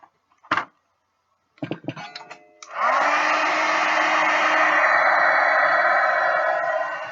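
Heat tool drying glue on an art journal page: a few soft clicks and handling taps, then the tool switches on and blows a steady, loud whooshing hum to the end, no talk.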